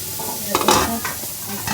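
Fish fries in hot oil with a close, constant sizzle, punctuated by a couple of brief bursts as the pieces are stirred.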